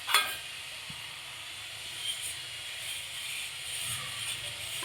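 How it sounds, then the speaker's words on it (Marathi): Sesame seeds roast on a hot tava griddle with a soft, faint, continuous sizzle and light crackle and no voices over it. "आता आपल्याला ह्या तव्यावर हे तीळ घालून घ्यायचे"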